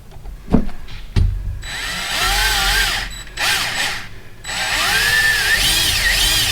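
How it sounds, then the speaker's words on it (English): A power drill with a Milwaukee cobalt bit bores into hard steel while a Hellcat cradle lockout is installed. Two sharp knocks come first, then loud, close grinding in three long stretches with brief pauses between them. "There's what the drilling looks like."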